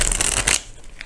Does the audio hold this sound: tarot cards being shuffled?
yes